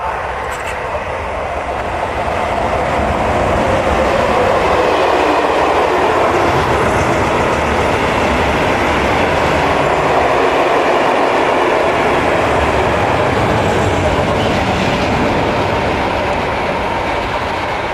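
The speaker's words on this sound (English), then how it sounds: "Excuse me for the noise of the train." A train passes close by an outdoor walking spot, a loud sustained rumble and rush of rolling cars that holds steady for the whole stretch, drowning out other sounds.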